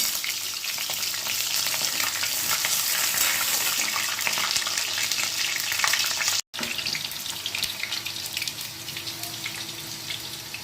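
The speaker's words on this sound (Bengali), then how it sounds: "সর্ষের তেলের মধ্যে আমি আলুগুলোকে ফার্স্টে ভেজে নিচ্ছি" Potatoes frying in mustard oil in a pan, a loud, dense, continuous sizzle and crackle with faint stirring, briefly cutting out for an instant before carrying on.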